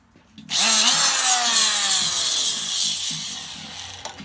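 A power tool cuts a slot for a crank pin into the crank hub of a turbo LSX 5.3 engine, whining loudly and steadily for about four seconds after a short quiet start, its pitch sinking slightly as the cut goes on.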